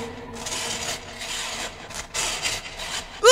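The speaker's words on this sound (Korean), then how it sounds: "이제 톱질 시작이다." A saw rasps back and forth in steady, scratchy strokes at moderate loudness, followed at the very end by a sharp voiced cry.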